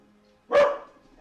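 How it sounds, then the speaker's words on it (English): A single sharp dog bark rings out close by in an otherwise quiet home, short and loud with a brief tail, without any talking over it. "Sorry for the barking. You can pass it on willingly."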